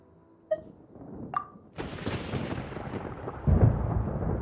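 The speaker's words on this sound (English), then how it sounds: "Paimon hears thunder!" Thunder rumbles in the Genshin Impact video game, a long loud storm roll that swells and grows heavier toward the end, preceded by a couple of brief sharp tones.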